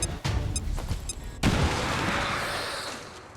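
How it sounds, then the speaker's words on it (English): A grenade detonates in XCOM 2, a sharp loud blast following scattered clicks and game sounds, then a long rumbling decay that fades over a few seconds, with no talk. "I think we just toss the grenade."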